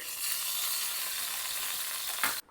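Coconut oil heating in a small tempering pan for a Kerala sadhya ginger curry gives a steady, close, hissing sizzle that runs evenly and then cuts off abruptly near the end.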